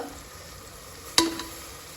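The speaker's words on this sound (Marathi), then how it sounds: "स्लो फ्लेमवरती याला मी थोडं शिजवणार आहे मसाल्याला" Masala for mutton biryani cooks in a pressure cooker on a slow flame, giving a faint, steady low sizzle broken by one sharp metallic clink.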